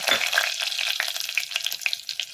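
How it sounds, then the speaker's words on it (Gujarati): Cumin seeds crackle and sizzle in hot oil for a Gujarati tempering, with a dense continuous fry and sharp little pops scattered throughout, close and fairly loud, with no talking. "તેલ ગરમ થઈ ગયું છે હવે તેમાં આપણે જીરું નાખીએ અને જીરું તતરી જાય"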